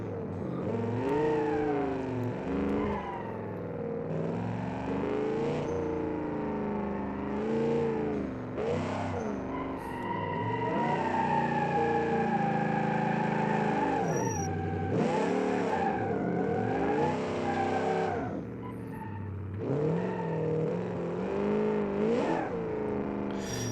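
A tuned-up car in the BeamNG.Drive driving game revs hard and skids, its engine climbing and falling in loud continuous sweeps with tire squeal mixed in, up close throughout.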